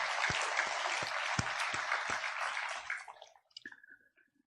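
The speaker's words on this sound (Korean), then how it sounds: "우리 하나님께 감사와 영광의 박수 올려드리겠습니다." Church congregation applauding during a Sunday worship service marking the church's 49th anniversary, dense sustained clapping that fades out after about three seconds, followed by a few faint clicks.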